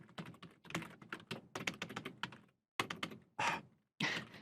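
Rapid typing on a computer keyboard, close and clear, with quick bursts of clattering keystrokes broken by short pauses and a few heavier taps near the end.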